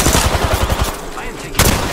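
Rapid bursts of automatic gunfire in Apex Legends, loud and close, followed by a short pause and another sharp shot burst, with game voice lines mixed in.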